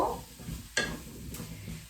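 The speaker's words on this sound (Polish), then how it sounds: "Przemieszamy jeszcze tą brukselkę." Brussels sprouts frying in a pan in tomato sauce are stirred, giving soft scraping strokes with a sharper clatter midway over a low, continuous sizzle.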